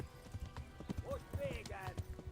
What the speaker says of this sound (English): Quick canter, let's go.